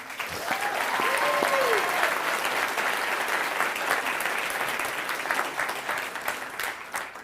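Audience at a film studio's live event applauding, a broad sustained wash of clapping that swells early then slowly fades, with a brief whistle-like tone near the start.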